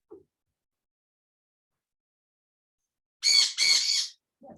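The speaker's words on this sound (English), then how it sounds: "Pardon my birds, they're beginning to wake up." Pet birds waking indoors let out two loud, harsh squawks back to back, close and otherwise quiet, with a faint short call at the edges.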